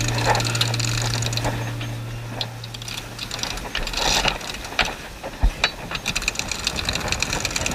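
Jib sheet being winched in aboard the sailing vessel Prism, a steady run of ratcheting winch clicks with a few louder knocks, over a constant low engine hum and wind.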